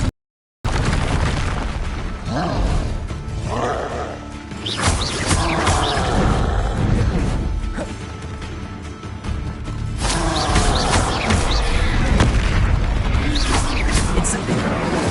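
Spellcasting combat in the game Hogwarts Legacy with Incendio and Expelliarmus spells, loud booming blasts and crashing impacts bursting repeatedly over a noisy mix, with a voice calling out between the hits.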